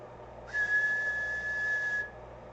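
A single steady whistle, held for about a second and a half, is blown into a radio during an audio test. The tone is clear and even over a faint background hum.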